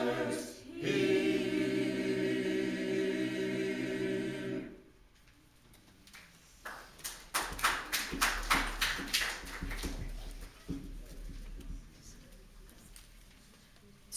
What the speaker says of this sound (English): It's been a while since we've heard clapping in here, isn't it?